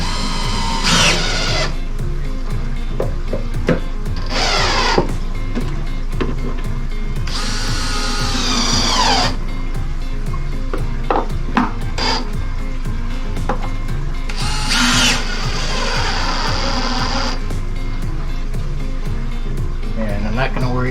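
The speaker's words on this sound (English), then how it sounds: "so I'm going to take it and screw it down real quick" A power drill driving screws into a 3/4 inch MDF top on a reef tank stand, with several short whirring bursts that start and stop and a person talking throughout.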